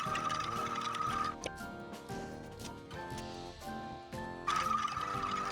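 A small $20 kids sewing machine stitching a long bag strap, a fast steady mechanical whir with a high tone that stops briefly and starts again, close and alone.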